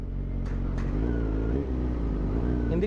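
Engines of motorcycles on a road in Santo Tomas, Batangas, drone steadily and close by, with a low continuous rumble and a couple of brief higher sweeps of passing traffic.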